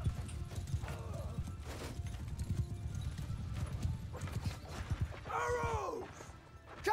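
Cavalry horses gallop with rapid hoofbeats through a medieval battle in Mount & Blade II: Bannerlord, a steady low drumming that swells near the end where a horse whinnies loudly.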